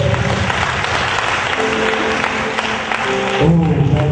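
A church congregation claps steadily to acclaim the Lord during an evangelical night vigil. The applause is loud and sustained, with voices mixed in and a sung or spoken tone rising near the end.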